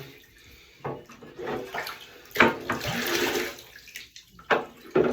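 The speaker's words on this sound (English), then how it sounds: "I had the water running" Running water from a tap splashes and gushes in uneven surges while a cat is rinsed during a bath, with bursts of louder spattering.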